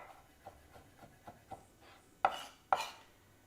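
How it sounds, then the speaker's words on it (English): Kitchen knife chopping tomatoes on a cutting board, a series of light, evenly spaced taps close by that end in two sharper, louder chops, with no talking. "Now I can just focus on julienning my tomatoes"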